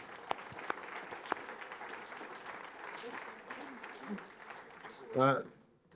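Brief applause on a Slovenian podcast featuring a ski jumper, a small group clapping quietly under ongoing talk, followed by a louder burst near the end.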